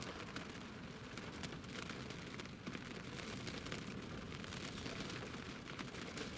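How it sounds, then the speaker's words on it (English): Heavy rain driven by strong wind at Newcastle International Airport, a dense, steady hiss of rainfall with faint gusty rumble and scattered drop impacts, quiet and distant with no voices. "The wind has picked up, the rain has started lashing it down"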